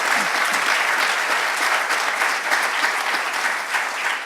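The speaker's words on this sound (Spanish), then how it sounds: "Carlos, un aplauso." An audience applauds at a nature documentary talk for the sound engineer Carlos, a dense, steady burst of many hands clapping together, loud and sustained without a break.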